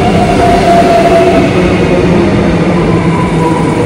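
A train pulls into a Melbourne city station near Flinders Street, giving a loud, continuous rumbling roar with a faint whine for several seconds and no talking.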